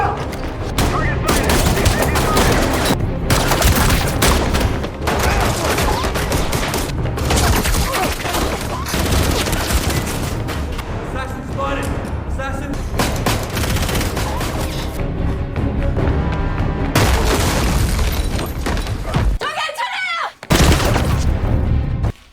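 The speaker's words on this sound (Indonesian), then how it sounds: "baku tembak tidak dapat dihindari" A film shootout between police and terrorists fills the scene with loud, dense gunfire and blasts that roll on almost without pause, dropping out only briefly near the end.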